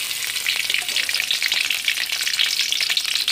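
Garlic sizzling in hot oil in a pan while cooking winged beans, a steady dense crackle at close range with no pauses and no voices.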